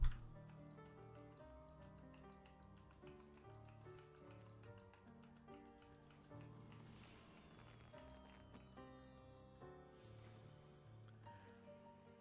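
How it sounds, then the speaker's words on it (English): Rapid, light keystrokes on a computer keyboard tap steadily throughout, faint and buried under continuous background music with sustained tones. "I'm gonna type something on a keyboard."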